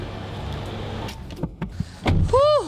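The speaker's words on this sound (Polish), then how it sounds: "Siadamy do samochodu i jedziemy." Someone climbs into a car: a few soft thumps and rustles, a door closing, then a rising electric whir like a power window.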